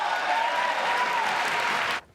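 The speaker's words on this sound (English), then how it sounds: "Only half the room applauded for that." Applause from part of a room at a political announcement, a steady burst of clapping that holds for about two seconds and then cuts off sharply.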